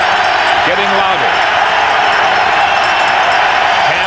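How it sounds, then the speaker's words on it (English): A football stadium crowd at a 1998 CFL East Final, Montreal Alouettes at Hamilton Tiger-Cats, roars as a loud, continuous wash under a commentator's voice. "Crowd getting louder."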